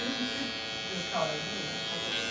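An electric hair trimmer buzzes steadily while edging a man's hairline during a short haircut, close and continuous, with a voice talking over it.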